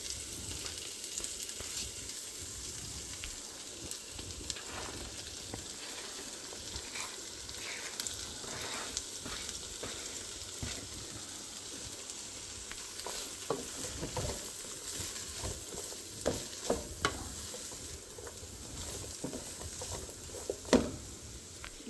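Vegetables for Indian-style fried rice sizzling steadily in a hot pan, with intermittent scraping stirs and light clinks over a constant frying hiss, close and without talk.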